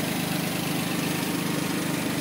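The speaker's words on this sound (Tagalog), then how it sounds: "This is Daihatsu engine nga lang pag mga video. Pero good engine, tahimik, yes." A Daihatsu 12-valve DOHC car engine idles steadily and smoothly at close range, a constant low hum with no talk over it.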